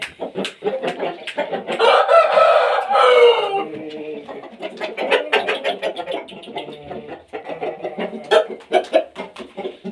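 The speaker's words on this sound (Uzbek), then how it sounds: "Xo'rozu taxmitkalarni ko'ringlar." A rooster crows loudly and close by in one long, drawn-out call, followed by a stretch of busy clucking and short calls from nearby fowl.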